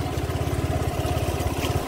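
A motorcycle engine runs steadily nearby in a forest setting, a low rhythmic chugging pulse like idling, continuous and fairly loud with no talk over it.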